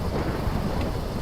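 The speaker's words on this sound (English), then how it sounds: "God, thunderstorm." Thunder rumbles low and continuous during a thunderstorm, with the patter of rain and a brief crackle mixed in, heard alone at a moderate, steady level.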